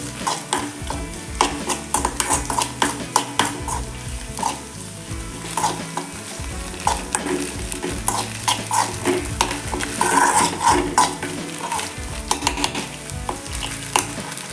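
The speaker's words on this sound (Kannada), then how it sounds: "ಚಿಕ್ಕ ಸೈಜ್ ಒಂದು ಈರುಳ್ಳಿ ಫ್ರೈ ಮಾಡ್ತೀವಿ ಚೆನ್ನಾಗಿ ಶುಂಠಿ ಸ್ವಲ್ಪ ಬೆಳ್ಳುಳ್ಳಿ ಚೆನ್ನಾಗಿ ಫ್ರೈ ಮಾಡಬೇಕು" Onion, ginger and garlic fry in coconut oil in a pan for a Mangalore-style chicken green gravy, a steady close sizzle broken by frequent stirring scrapes and clinks, with no talk.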